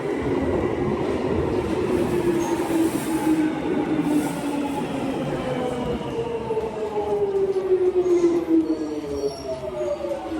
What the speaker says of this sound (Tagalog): This is my last train.